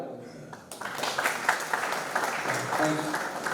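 A crowd applauds at an indoor product launch event in Ahmednagar, a steady wash of clapping that starts after a brief quiet moment and continues without a break to the end, with voices mixed in.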